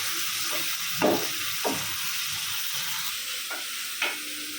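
Flat beans fry in a wok with a constant low sizzle. A handful of separate scraping stirs stand out, the loudest near the start and the rest spaced irregularly.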